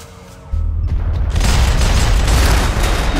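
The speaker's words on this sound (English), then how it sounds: "Whoa! Shotgun. Shotgun out of nowhere." Shotgun fire in the Max Payne 3 multiplayer game bursts in suddenly after a quiet moment, a loud, close, booming blast that swells into a dense roar of sustained noise.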